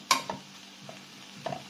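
Seasoned food dusted with paprika stirring and cooking in a pot, a few soft scrapes and faint sizzling in short bursts, quiet and close.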